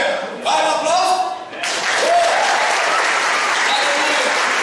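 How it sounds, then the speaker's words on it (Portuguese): A church congregation bursting into applause, a broad, dense wash of clapping from a large crowd that starts abruptly and continues steadily, with a voice shouting and crowd noise mixed in over the top. "Vai no aplauso!"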